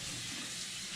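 A kitchen tap runs in a steady, even rush of water while dish towels are dampened under it, fairly quiet and continuous with no talk.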